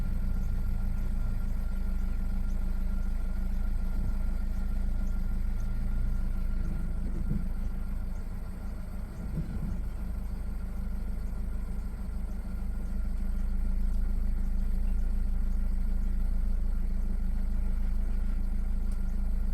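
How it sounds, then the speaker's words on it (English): A 2014 Ford Focus idles steadily with a low engine hum while its gearbox relearns shift points, giving a couple of soft mechanical clunks midway, with no talking. "the gearbox will make a couple of noises, and that's perfectly normal"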